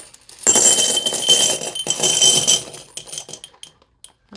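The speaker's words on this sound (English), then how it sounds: "So let's just go ahead and dump that right in here." Quarters poured from a bag into a change jar, a dense rattling cascade of clinking coins for about two seconds, then scattered settling clinks fading to quiet.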